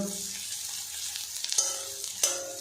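Onion fries in oil in a pan with a bright, steady sizzle, broken by two sharp utensil scrapes near the end.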